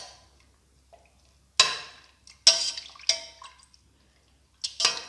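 Noodle ingredients are being mixed with turmeric powder in a bowl, producing a few short, sharp scraping clatters spaced by quiet gaps, close and fairly crisp.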